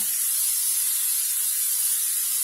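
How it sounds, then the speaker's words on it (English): Olive oil cooking spray hisses steadily onto a pan, one continuous close burst lasting a couple of seconds, bright and airy with no other sounds. "I'm going to use my cooking spray, olive oil. It's cooking spray for a reason, so I'm gonna spray my pan."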